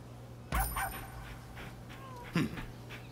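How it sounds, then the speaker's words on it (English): A puppy in the video game Rise of the Ronin gives a couple of short whimpering yips, one at the start and another near the end, over a steady low game hum. "Oh, it's a puppy."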